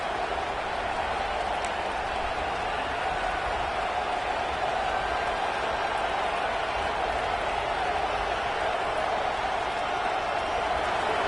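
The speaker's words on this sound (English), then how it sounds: "Listen to this crowd just shaking the girders of this place, trying to help their defense." A stadium crowd in the college football video game NCAA 26 roars as one steady, dense, loud wash of noise that holds without a break from start to finish.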